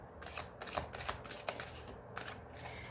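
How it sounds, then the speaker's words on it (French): Tarot cards laid down and handled on a table during a reading, a run of soft, crisp card slaps and rustles coming close and fairly quiet, several quick flicks in irregular rhythm with no talking. "je vais recouvrir les cartes négatives pour voir un peu"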